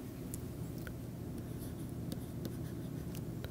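Pen or chalk scratching on a board during a chemistry lecture on reaction rates, a quiet and steady writing sound that runs the whole time under a constant hiss of room noise, with no speech.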